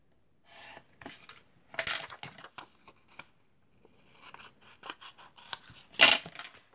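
Scissors cut through card for a folded lily of the valley greeting card, producing close, crisp snips and slicing strokes in two clusters, with a brief quiet gap between them.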